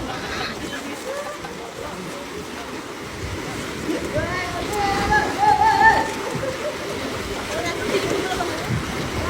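Sea waves splash steadily at a beach in Cavite or Batangas, with water churning and wind rumble while people talk and call out over it.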